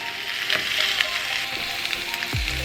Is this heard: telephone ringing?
no